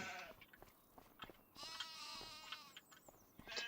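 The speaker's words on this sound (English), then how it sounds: "Happy sheep." Sheep bleat in Farming Simulator 2025, a few overlapping calls close by, fairly quiet and alone with no voices over them.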